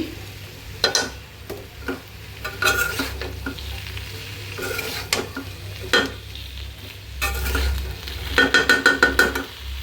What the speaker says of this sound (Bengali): এই যে আলু পটল ভাজি হয়ে আসছে